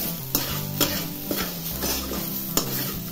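Food sautés in a hot pan with a steady sizzle, broken by repeated stirring scrapes and light knocks of a utensil against the pan, close and without talk.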